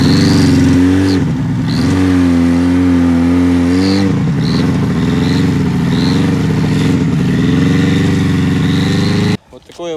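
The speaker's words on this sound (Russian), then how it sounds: "Сейчас поедем домой на буране." A Buran snowmobile engine runs loud and near with a steady, buzzing drone. The pitch rises and falls as it revs, then the sound cuts off abruptly at the end.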